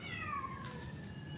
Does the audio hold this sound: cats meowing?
yes